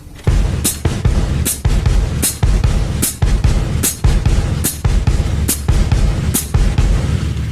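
A samba foot pattern alternates kick drum and hi-hat in a steady, even rhythm of punchy low thumps and crisp chick strokes, close and loud, with no talking.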